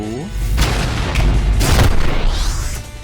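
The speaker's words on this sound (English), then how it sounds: "And the same can be done with any explosion." Rocket launcher explosions in the fast first-person shooter ULTRAKILL, several heavy booming blasts in quick succession with crackling debris, loud and close, over game sound effects.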